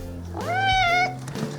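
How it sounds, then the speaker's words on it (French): A cat lets out a single clear, rising-and-falling meow lasting under a second, close and fairly loud, with a faint room background and no talking. "Il miaule puis il fait ça, regardez."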